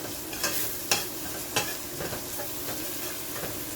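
Chopped tomato goes into a pan of Jamaican-style curry shrimp with coconut milk and is stirred. A steady close sizzle runs throughout, with scraping stirs at regular intervals.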